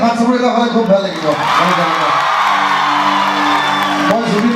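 A live-show crowd at a concert roars with sustained cheering, whoops and clapping, loud and dense, while a voice sings or shouts over the crowd.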